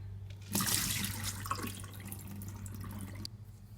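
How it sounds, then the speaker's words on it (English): Overnight-soaked Sango radish sprouting seeds being drained of their water: a steady, splashing pour that starts abruptly, runs for about three seconds over a low hum, then cuts off, with no voices. "The Sango radish has been soaking overnight, and I'm going to drain them"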